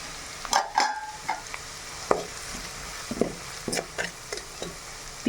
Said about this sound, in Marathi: तिखट मीठ फ्राय झालेलं आहे.